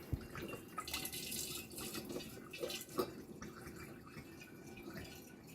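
Dandelion wine pours steadily into a demijohn, a continuous trickling and splashing stream with no voices, close and moderately quiet.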